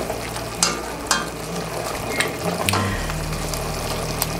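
Chopped vegetables fry with tomato paste in a pan, giving a steady close sizzle with occasional sharp pops and stirring scrapes.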